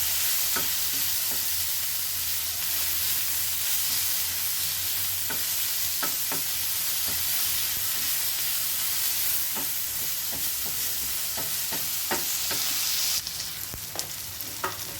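Tomatoes frying in a hot pan of browned onions for egg masala, a steady broad sizzle with repeated scraping clicks of a spoon stirring, close and alone with no talk.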